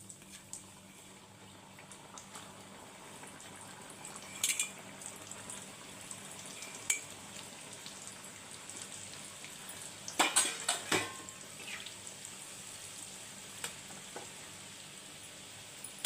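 Steady low sizzle of biscuits frying in hot oil, with occasional clinks of a utensil against the pan and a short cluster of louder clatter partway through, fairly quiet and close, with no talking.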